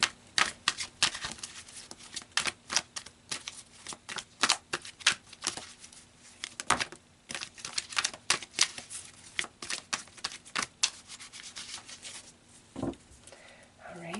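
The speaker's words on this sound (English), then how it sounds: "So let's pull some cards and gain more insight" Tarot cards are shuffled repeatedly at close range in quick, crisp riffling bursts with short pauses between them, and no voices are heard.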